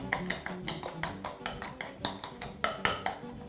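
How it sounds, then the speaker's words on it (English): Spoon or whisk clinking against a bowl while sugar is mixed in for Danish pastry, a steady run of sharp, fairly close taps and scrapes with no talking. "Proceed to mix that together"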